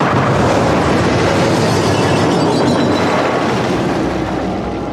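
A big firecracker bomb goes off at night with a loud, sustained roaring blast, rumbling close and dense for several seconds before tapering slightly.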